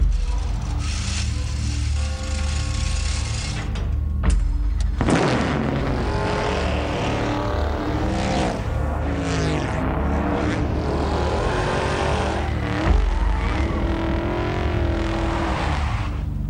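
A Ford Fusion car drives in a TV advert, with loud, dense rushing engine and road noise that runs continuously and is broken by a few sharp swells and bursts.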